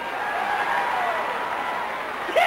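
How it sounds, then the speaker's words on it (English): Wrestling arena crowd roaring and applauding in a steady dense wash of noise for the whole short stretch, with a brief sharp rise at the very end. "This crowd is deafening."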